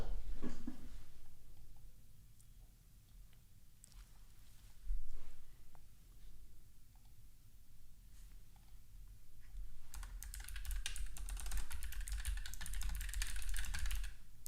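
Keys clack on a computer keyboard at a quiet desk. Scattered clicks come first, then a denser, louder run of typing near the end, with no one speaking.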